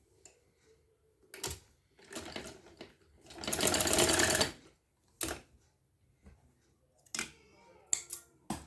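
A sewing machine stitches a strip onto a sleeve in several separate bursts, the longest lasting about a second and a half, with quiet pauses between runs.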